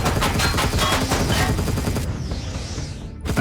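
Bullet epic assault rifle firing in Empyrion Galactic Survival, a loud continuous automatic burst of rapid shots lasting a few seconds, then trailing off into a whooshing tail.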